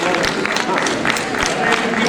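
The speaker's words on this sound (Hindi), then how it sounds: "एक बार तालियों के साथ अभिनंदन, अभिवादन।" An audience at an award and honour ceremony applauds, a steady wash of clapping that stays even and fairly loud for about two seconds.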